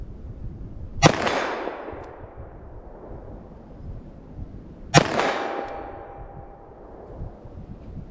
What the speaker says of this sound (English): 9mm, I'm gonna fire a couple of single action